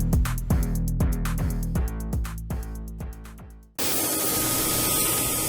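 A spray gun hisses in a steady, close, loud rush as a white base coat goes onto masked Ducati 748 motorcycle panels, following a stretch of rhythmic music.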